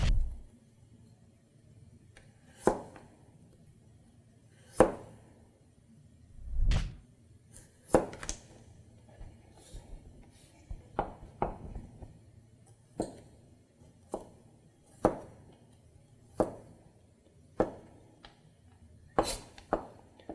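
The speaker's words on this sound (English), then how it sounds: "So we are going to cut brunoise." Knife on a cutting board dicing vegetables into fine brunoise cubes, giving sharp, separate chops at an uneven pace, roughly a dozen sharp taps over a quiet background with no talking.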